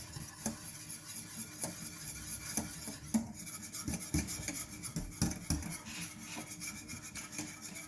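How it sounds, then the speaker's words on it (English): Eggs whisked by hand for crème pâtissière, a quiet, steady scratching and rasping of whisk wires against a bowl in regular close strokes, with no voices. "just whisk, whisk, whisk"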